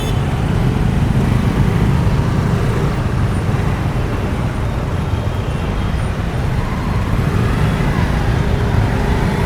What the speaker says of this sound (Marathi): अरे अरे अरे अरे ट्रॅफिक का जाम झालंय